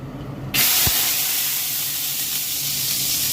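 Garlic hitting hot oil in a pan while cooking chicken tinola, a sudden loud burst of sizzling and hiss that holds steady and close, with no talking.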